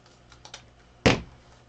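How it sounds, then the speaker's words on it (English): Scissors cut diagonally through folded wreath ribbon in one crisp, close snip, preceded by a couple of faint handling clicks. "I'm going to fold in half and cut diagonally to where our corner is at"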